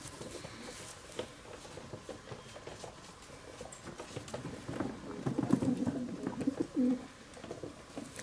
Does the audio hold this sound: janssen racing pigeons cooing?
yes